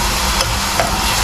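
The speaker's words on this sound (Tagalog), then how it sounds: "Isusunod ko na tong giniling." Ground meat hits a hot pan for Filipino-style spaghetti sauce, giving a loud, steady sizzle and frying hiss with scraping stirs mixed in.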